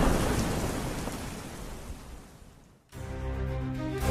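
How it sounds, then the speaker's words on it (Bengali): Heavy rain and a thunderstorm at night in a radio horror drama: a loud, dense downpour with a rolling thunder rumble that fades, then a short break before steady rain resumes with a tonal musical hum underneath. "এই ঝড় বাদলের রাতে"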